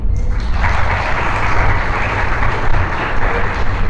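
A crowd claps continuously, a dense, steady wash of applause that stays loud throughout with no voices standing out.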